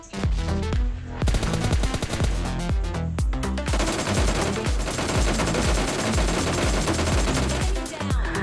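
Sustained DP light machine gun fire in PUBG Mobile Lite, a dense rapid stream of loud close shots with a brief break early on, then continuous bursts filling the rest with no talk.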